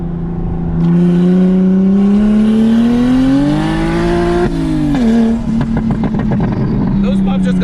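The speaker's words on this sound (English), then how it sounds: "Those pops just got loud" An 800 hp big-turbo BMW 335i revs with a rising, droning exhaust tone heard up close from inside, then breaks into crackling pops toward the end.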